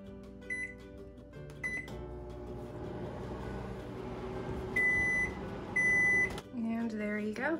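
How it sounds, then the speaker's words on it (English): A microwave oven hums steadily while softening honey and ginger, with several short electronic beeps near the start and end, close by and under a talking voice. "I'm just gonna pop this in a microwave for maybe about 30 seconds, get it all softened up"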